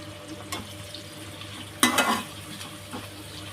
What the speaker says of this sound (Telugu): ఉల్లిపాయల కలర్ మారేంత వరకు ఫ్రై చేసుకోవాలి.